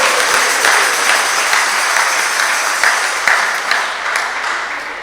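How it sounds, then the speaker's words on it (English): An audience at a Krishna Fest gathering bursts into loud, sustained applause for the devotees, a dense wash of many hands clapping that eases slightly toward the end. "So let us give a big round of applause for the devotees."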